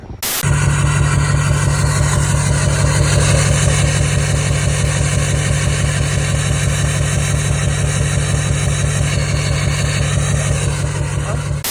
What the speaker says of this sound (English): I got out of the pickup, let it idle for about 2 minutes, and all of a sudden it started misfiring